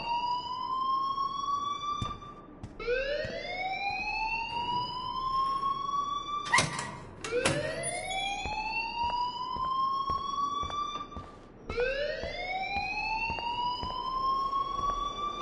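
A school alarm in the video game Life is Strange wails loudly and continuously, each rising siren sweep repeating every few seconds, with a few sharp knocks in between.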